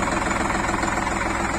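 An Indo Farm 3048 tractor engine idles with a steady, loud, rhythmic diesel knock close by, unbroken and with no talk over it.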